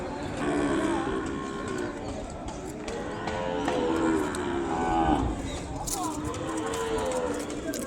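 Ongole bull calves at a cattle sale moo repeatedly in long, drawn-out calls, several animals overlapping nearby, with birds cooing faintly in the background.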